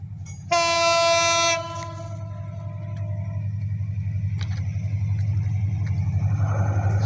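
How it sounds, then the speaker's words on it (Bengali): A train near Tongi sounds a loud, sustained horn blast for about a second, while a deep rumble of the approaching train builds steadily underneath and grows louder. "তো ট্রেন আসতেছে, আমরা প্রায় ট্রেনের কাছাকাছি।"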